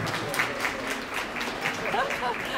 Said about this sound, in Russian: Аплодисменты нашим замечательным таксам.